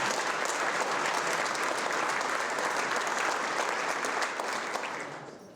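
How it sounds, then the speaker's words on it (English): Audience applause at a school's State of the School presentation, a dense, steady clapping from a large crowd that holds at full strength for about five seconds before tapering off at the end. "Big round of applause for everyone."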